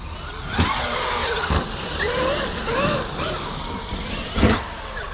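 A Traxxas XRT RC truck drives across a front yard, its electric motor whining and rising in pitch as it accelerates, with bumps and thuds over rough ground and faint wind noise.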